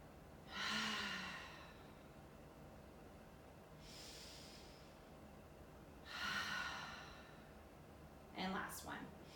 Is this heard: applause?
no